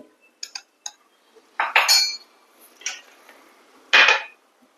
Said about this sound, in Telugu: కరక్కాయలు కచ్చా పచ్చా దంచుకోవాలి